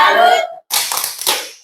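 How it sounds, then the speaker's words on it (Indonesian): A group of children joins in a 'tepuk salut' clap chant in a classroom homeroom session, with a voice leading at first, then two short bursts of quick, near claps. "kita tepuk salut untuk kita semua dulu"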